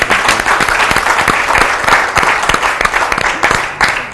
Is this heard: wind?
no